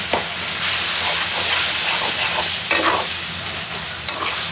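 Tempered leafy greens are stir-fried in a pan with a loud, continuous sizzle and hiss. A few sharp clacks of the utensil against the pan stand out at scattered moments.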